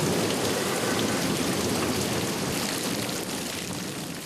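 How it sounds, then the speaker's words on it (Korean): A heavy downpour of rain drums steadily and loudly on surfaces as a dense, unbroken roar with faint low rumbling beneath, and no voices. "폭우가 쏟아집니다."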